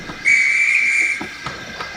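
A railway guard's whistle blows one long, steady, piercing blast, loud and close, with faint station hiss and rail clatter around it.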